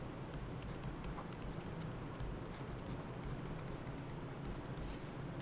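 Pen or pencil scratches steadily across paper close by, quiet and continuous, while a maths problem is written out.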